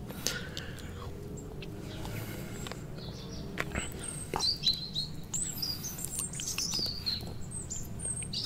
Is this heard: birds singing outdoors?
yes